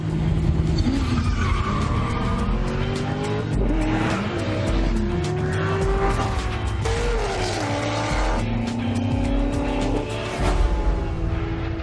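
Tires squeal and skid continuously during a tuning car race event, engines straining beneath a sustained, loud, wavering screech that rises and bends in pitch for the whole stretch, with no talking.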